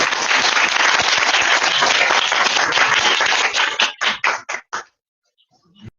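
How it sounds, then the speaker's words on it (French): An audience at a church service applauds loudly and densely, then the clapping breaks into a few scattered claps and fades out into near silence. "Acclamez pour vous-même."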